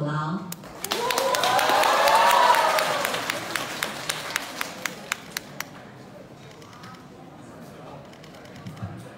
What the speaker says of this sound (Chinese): 感谢各位热情洋溢的掌声